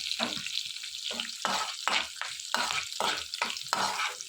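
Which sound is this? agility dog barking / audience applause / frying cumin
frying cumin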